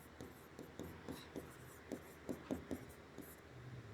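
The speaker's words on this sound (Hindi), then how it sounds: "इसको हम इस साइड लिखेंगे" Chalk or marker writing on a board during a history lesson; a quiet series of short taps and strokes at an irregular pace, close by, with no speech over them.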